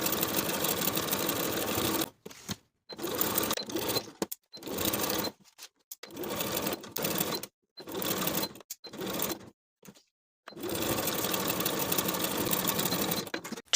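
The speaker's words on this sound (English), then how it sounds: "Sew around the neckline and the center backs with a 1/2 inch seam allowance, catching those sandwich ties in your stitches." Sewing machine stitching the neckline and center backs of a pintuck poet blouse, close whirring bursts of rapid stitching broken by short pauses, with no talking.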